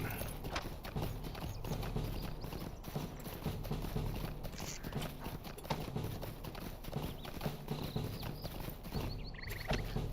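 Horse hoofbeats while riding in Lord of the Rings Online, a fast steady clip-clop gait continuing evenly throughout.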